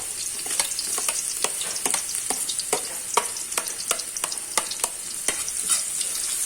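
Ginger and garlic sautéing in a pan for a coconut-milk crab and shrimp dish, with a steady sizzle and repeated stirring clicks of a utensil against the pan at an irregular rhythm, close and without talk.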